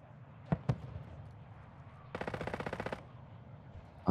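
Two sharp single gunshots crack, then after a pause a rapid automatic burst of gunfire rattles for about a second, over faint background noise, in the video game Call of Duty: Modern Warfare II Warzone 2.0 DMZ.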